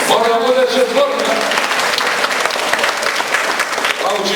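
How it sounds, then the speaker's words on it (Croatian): An audience breaks into sustained applause, a dense crackle of many hands clapping, with a voice briefly audible over it at the start. "Vidi, aplauz sam dobio"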